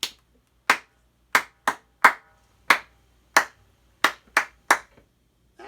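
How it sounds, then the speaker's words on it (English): Sharp single hand claps ring out alone in short rhythmic patterns, one person clapping and a second copying, about ten crisp, close claps separated by silence. "let's just do some basic copy clap, call and response"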